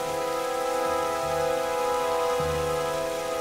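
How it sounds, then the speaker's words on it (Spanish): Steady rain falling in the video game Tomb Raider Definitive Edition, a constant even hiss of drops on surfaces over a low droning hum, with no talking. "Y encima lloviendo"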